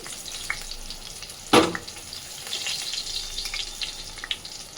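Bay leaf and whole cumin hit hot oil with a sharp burst of sizzling and spattering, then settle into a steady, fainter crackle. The tempering is for a shola kochu and prawn dish.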